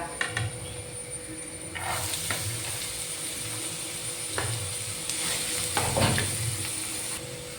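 Finely chopped onions fry with ginger and green chili in hot oil, a steady close sizzle and hiss broken by a few louder bursts as the ingredients are stirred, with no one speaking.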